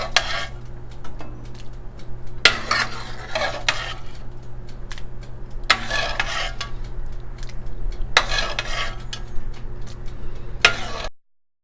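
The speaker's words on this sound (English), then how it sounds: "And now I am going to serve it in a big bowl." Yellow daal soup is ladled into a big serving bowl. Bursts of scraping and sloshing come every few seconds with clinks of the ladle against the pot, over a low steady hum.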